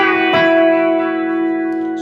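An electric guitar with a B-bender plays a riff, sustained distorted notes ringing loud and close with a pick attack partway through, and no speech.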